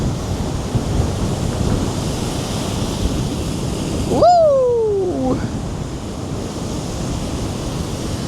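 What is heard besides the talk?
sea waves on a windy day at Cleveleys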